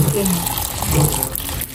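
Water poured over thinly sliced busaing in a bowl to soak, a steady close rush and splash of liquid lasting under two seconds.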